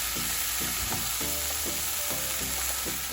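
Prawns, tomatoes, onions and garlic sizzle steadily in a hot pan, a constant loud crackle with occasional stirring scrapes and clinks throughout.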